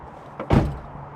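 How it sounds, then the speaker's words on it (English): A single car door of a classic Honda Integra (DA) thuds shut nearby, a short muffled bang over a low steady hum. "When you shut the door,"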